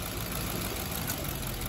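A Nissan VK45DE V8 with a solenoid-controlled dual-runner intake idles in reverse gear, a steady, even low rumble held close and constant throughout with no voices over it.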